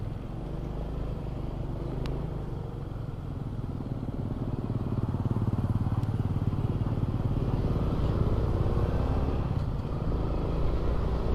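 A Honda XRM FI motorcycle rides through slow, congested traffic, its small engine droning steadily with a low rumble, joined by surrounding vehicle noise and occasional clatter.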